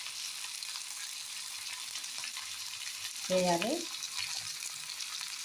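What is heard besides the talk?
tomato frying in oil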